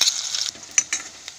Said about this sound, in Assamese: পিঁয়াজখিনি ৰঙচুৱা নোহোৱালৈকে অকণমান সময় মই ভাজিম।